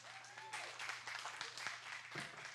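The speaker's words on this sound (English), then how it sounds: "Everybody, round of applause." Applause from a church congregation, a faint, distant patter of clapping sustained through the short stretch, with a low hum in the room.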